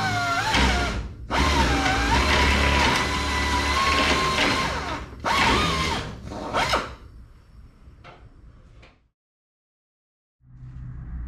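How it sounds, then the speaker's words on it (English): A drill bores through aircraft parts on the forward fuselage longeron of a Van's homebuilt airplane. Two loud, close, whining runs are separated by a brief pause, followed by short bursts and then silence. "It's to drill them to the longeron"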